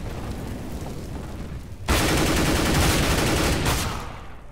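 Burst of sustained video game gunfire in a tactical shooter, a loud dense volley kicking in suddenly partway through and running on for a couple of seconds before easing.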